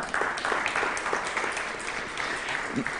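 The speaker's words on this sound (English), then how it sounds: "Please applause." An audience applauds a guest at a school sport forum, a moderate, even patter of many hands that stays steady and fairly soft.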